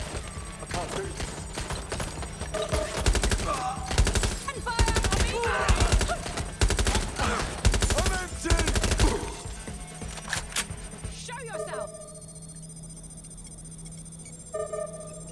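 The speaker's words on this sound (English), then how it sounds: "I'm getting shot at here." Gunfire in the video game Watch Dogs: Legion, rapid automatic bursts and single shots crackling loudly for about ten seconds, then fading into quieter game tones and a few electronic blips.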